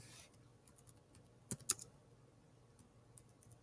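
Soft keyboard typing, a scattering of quiet, uneven key clicks with a couple of sharper taps midway, faint and close against a low background hum.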